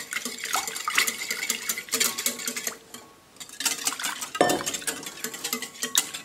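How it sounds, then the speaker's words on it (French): A spoon stirring a chocolate flan mixture in a bowl, with continuous clinking and scraping against the sides and a brief lull midway, close and fairly loud. "Et là, on mélange comme il faut."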